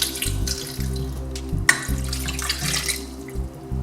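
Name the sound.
glass of water poured onto meat in cooking pot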